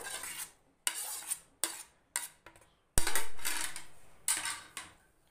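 Fruit salad with grapes is stirred in a bowl, a utensil clinking and scraping against the dish in several short separate bursts with silent pauses between them. The sounds are close and fairly quiet, and nobody speaks.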